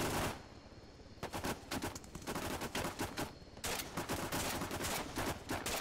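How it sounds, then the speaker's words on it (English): Automatic and single gunfire in the Arma 3 military game crackles in rapid bursts, close and sharp, broken by short pauses, with a long stretch of sustained shooting near the end. "bullets are flying up right above me"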